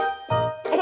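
Bell on a bus in a children's song, a bright ding-like tinkle with ringing overtones, two quick strikes in under a second over the music.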